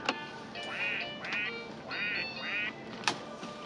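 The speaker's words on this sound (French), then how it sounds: "on va essayer le petit canard rose" A pink VTech Baby toy duck gives four short electronic quacks in an even rhythm, close and clear, followed by a couple of faint clicks.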